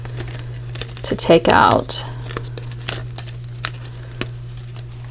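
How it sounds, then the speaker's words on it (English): A small laser-cut paper piece from a Stampin' Up! Paper Pumpkin craft kit is popped out of its sheet in one brief crinkly, tearing burst, followed by a few faint rustles and taps, with a voice speaking quietly. "And then we're just gonna pop this out. This little laser cut, really easy"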